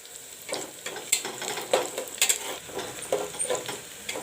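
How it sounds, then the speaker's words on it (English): Onions browning in oil with whole garam masala (cinnamon sticks, cloves, green cardamom) for a chola curry, giving a soft steady sizzle broken by scattered crackles and spoon scrapes, close and alone. "Onions are almost done brown."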